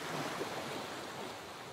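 Ocean waves wash steadily in a soft, continuous surf, faint and distant with no distinct breaks, forming a calm backdrop for a birth-relaxation meditation.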